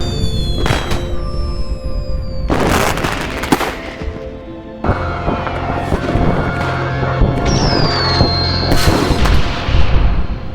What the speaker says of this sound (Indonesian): dia kaget terbangun mendengar suara kembang api